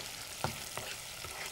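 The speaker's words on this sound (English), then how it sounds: "We're going to fry the bits." Bits of food frying in a pan, a steady close sizzle with a couple of brief clinks or stirs, no voices.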